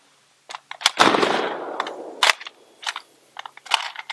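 A metal E-Lander 30-round AR15 magazine is forced into the rifle's magazine well with a few light clicks, a long scraping rattle and a sharp snap, followed by scattered small clicks and handling noises.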